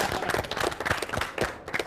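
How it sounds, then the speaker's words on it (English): A short burst of applause, many hands clapping in a dense, continuous patter. "A quick round of applause for my heroes"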